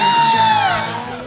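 An audience at an Eagle Scout ceremony bursts into loud cheering, with high whoops and yells riding over a crowd roar that fades slightly toward the end.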